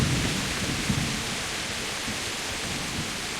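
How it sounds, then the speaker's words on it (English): Heavy rain and thunder in the video game Kingdom Come Deliverance, a dense, steady hiss of downpour with low rolling thunder rumbling underneath throughout. "it's like throwing it down with rain, mate"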